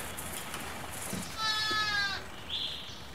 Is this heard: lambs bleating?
yes